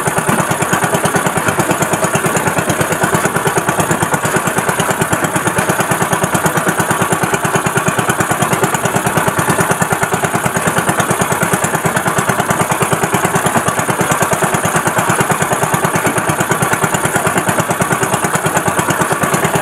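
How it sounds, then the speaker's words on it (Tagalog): Small boat motor running at sea while the boat moves slowly in wind, a steady rapid engine chug held close and loud for the whole stretch, with no talking. "So magpadandahan lang tayo patakbo sa bangka kasi mabasa tayo"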